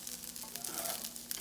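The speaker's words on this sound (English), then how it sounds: "Fry it up a little bit" Rice frying in a pan sizzles steadily and close by, a continuous crackling hiss with no voices.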